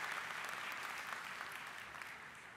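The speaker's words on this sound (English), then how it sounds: "Let's have a big round of applause for all the family and friends" Audience at a college graduation ceremony applauding steadily, a dense wash of clapping from a large crowd that stays even throughout.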